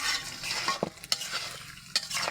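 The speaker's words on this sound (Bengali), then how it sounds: "হালকা এখন নেড়ে দিব" A ladle stirs chicken curry with yam in a pot over a clay stove, soft scraping strokes and a few sharper clinks against the pot over a faint sizzle, quiet and close, with no voices.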